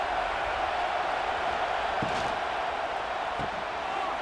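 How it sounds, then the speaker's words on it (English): A stadium crowd roars throughout a college football video game matchup between Boston College and Michigan State, a dense, continuous wash of cheering with a couple of faint thuds. "Here comes second down, and this crowd is turning it up a notch."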